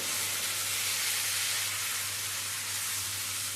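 Spiced potato masala in a pan sizzles after a little water is added, giving a steady, even hiss that holds without a break, close and moderately loud.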